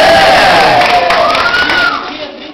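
A large crowd at a 2009 camp gathering cheers and shouts for Mecânica Industrial, loud and close at first, then fading toward the end.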